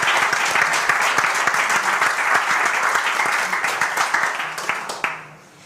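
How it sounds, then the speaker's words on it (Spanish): An audience at a talk and discussion in a Madrid bookshop breaks into loud, dense applause that holds steady for several seconds before tapering off quickly at the end. "no sé si un fuerte aplauso, pero sí la enhorabuena por la organización"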